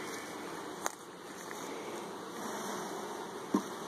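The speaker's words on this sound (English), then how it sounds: "So we've still got bees up in here." Honeybees hum in an opened first-year nuc hive being split, a faint, steady buzz that stays even throughout with two brief knocks.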